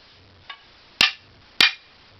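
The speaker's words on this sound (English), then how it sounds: "I'm just going to put it in there and just tap it in" A sledgehammer handle is tapped into its head, giving a faint first knock and then two sharper, louder wooden-metal taps about half a second apart, close and clear against a quiet background.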